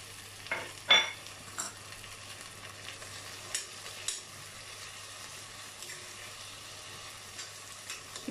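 Tomatoes go into onions frying in oil for a dry fish thokku, a faint low sizzle with a few sharp stirring clinks and scrapes near the start, no speech.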